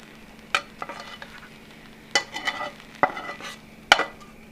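Onions stirred in a hot pan for a soybean burger mix, a quiet sizzle under several sharp utensil scrapes and clinks against the pan, with no voices.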